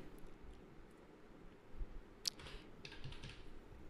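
Fingers tap a PIN code on a computer keyboard, producing a short run of faint, close key clicks over a quiet room hiss with no talk.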